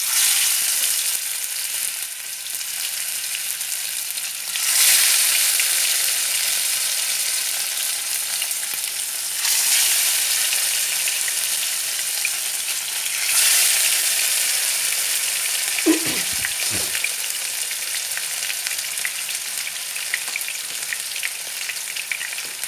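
Fish pieces frying in heated oil, giving a loud, continuous, close sizzle with gentle swells and a few brief spatters, and no voices.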